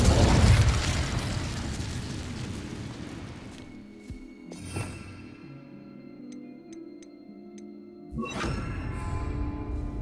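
An Incendio fire spell cast in the Hogwarts Legacy video game on PS5, heard as a loud roaring burst at the start that fades, a sharp crackle near the middle, and a second fiery whoosh near the end, with no talking.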